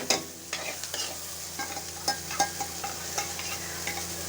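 Onions fry in oil with mustard seeds, cumin, urad dal, dried red chilli and asafoetida, a soft background sizzle broken by irregular light scraping and tapping of a spoon against the pan.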